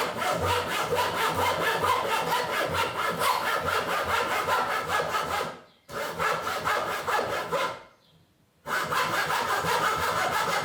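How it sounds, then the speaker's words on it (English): Rhythmic hand sawing through bamboo, cutting off the root end of a shakuhachi flute blank, steady rapid strokes, close and loud, stopping briefly twice before resuming. "I cut off the root end to reach a somewhat finalized length and positioning of the root."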